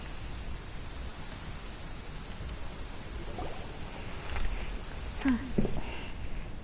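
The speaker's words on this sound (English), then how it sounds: "It's been raining non-stop for a few days now." Steady rain falls in a video game scene, a soft even hiss of drops filling the background, with a few faint brief sounds rising briefly near the end.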